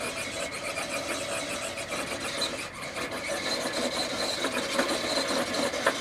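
A 1.9-inch Class 2 RC crawler, a Jolikar KLR clone, strains its electric motor at high throttle, giving a faint continuous whine with scraping and rubbing over rock.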